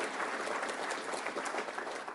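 Scattered audience applause at a national security forum keynote, a steady wash of many hands clapping, moderately faint and distant, with no talk over it.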